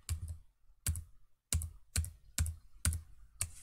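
A computer keyboard being pressed while working in a FreeCAD 0.20 sketch: about seven crisp, close key clicks in an uneven rhythm, with short quiet gaps between them and no talking.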